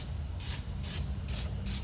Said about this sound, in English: Now just a quick spray, just to protect everything else.